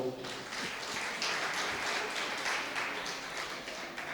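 Steady applause from a church gathering fills the whole stretch, a dense even wash of clapping at moderate distance with no pauses.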